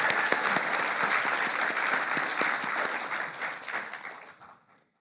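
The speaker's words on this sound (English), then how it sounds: "Let's give Ranjani a round of applause" Audience applause after a presenter's talk at a university 3 Minute Thesis research event, a dense wash of many clapping hands that holds steady and then fades out near the end.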